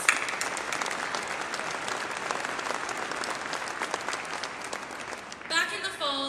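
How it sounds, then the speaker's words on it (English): An audience claps for over 300 youth participants at a Calgary leadership election panel, a steady full applause lasting several seconds before a voice starts speaking as the clapping fades. "I think that deserves a round of applause"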